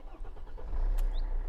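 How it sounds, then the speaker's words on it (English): A Mercedes-Benz CLK coupe, a pillarless classic with a slightly noisy engine, starts with a brief cranking chatter and then settles into a loud, close, deep idle rumble. "Might have a bit of a noisy engine,"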